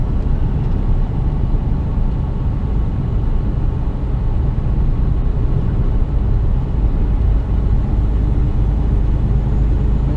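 Cab of a heavily loaded HGV container truck rolling along a 40 mph road in the UK, giving a loud, steady low engine and road rumble with no speech.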